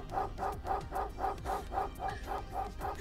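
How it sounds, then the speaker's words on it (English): Dog barking from the video game Hotline Miami 2: a steady run of about ten rapid, evenly spaced barks over a low background drone, with no talking. "Dog!"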